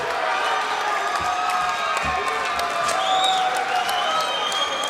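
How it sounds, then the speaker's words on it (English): A fight-night crowd cheers and applauds through the closing seconds of the evening's eighth bout, a dense, steady roar of clapping and shouting that stays loud and close from start to finish. "Crowd's really getting into it."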